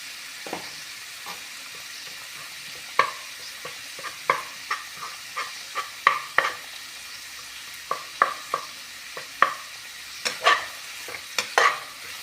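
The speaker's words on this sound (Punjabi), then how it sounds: "ਇੱਕ ਦੋ ਮਿੰਟ ਲਈ ਆਪਾਂ ਇਹਨਾਂ ਨੂੰ ਕਰੇਲਿਆਂ ਨੂੰ ਇਸੇ ਤਰ੍ਹਾਂ ਹੀ ਨਾਲ ਹੀ ਪਕਾ ਲਈਏ" Bitter gourd and okra sabzi sizzles in a pan while a utensil scrapes and stirs it, giving a steady soft fry under a string of sharp clicks and scrapes at irregular intervals, with no talking.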